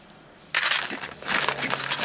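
A pile of metal keys from an unboxed haul clatters and jingles after a short quiet lead-in, a busy burst of bright metallic clinks lasting about a second and a half, close and fairly loud with no talking.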